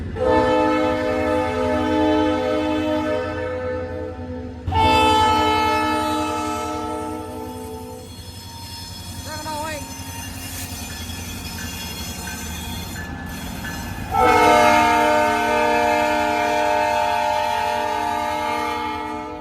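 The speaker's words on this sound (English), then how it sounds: "Iowa Interstate Locomotive train coming." An Iowa Interstate freight train hauling grain rumbles past close by on former Rock Island Railroad track, its horn sounding in long loud blasts over steady rolling wheels and rattling cars.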